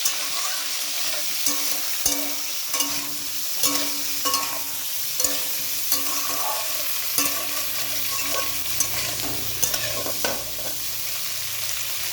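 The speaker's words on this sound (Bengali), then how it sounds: "আলুটাকে একটু ভেজে নেব।" Potatoes fry in oil in a wok, giving a steady close sizzle punctuated by repeated stirring scrapes and clicks of a spatula throughout, with no talking.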